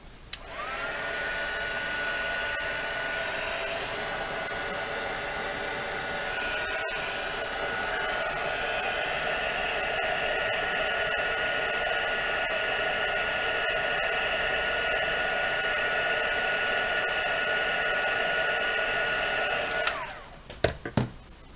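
A hair dryer runs steadily for about twenty seconds, drying lace dyed with tea and coffee, a loud close whooshing roar with a high whine, then cuts off near the end followed by a few small clicks.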